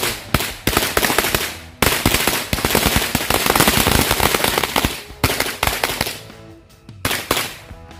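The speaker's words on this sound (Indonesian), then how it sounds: "Satu gepok mercon korek" A bundle of mercon korek firecrackers goes off in a long, dense barrage of sharp cracks and pops, loud and close, with a brief pause before the bursts resume and then thin out.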